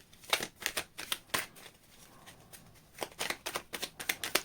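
Deck of tarot cards being shuffled by hand, quick riffling bursts of crisp clicking snaps, a pause in the middle, then a longer rapid flurry; close and fairly quiet with no voices.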